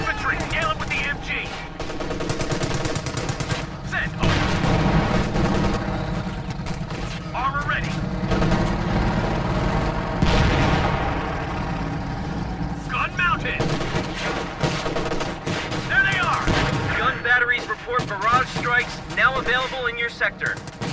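Bursts of gunfire and machine gun rattle crackle through a Company of Heroes 2 battle, sustained and layered across the whole stretch, with game voice callouts speaking over the shooting.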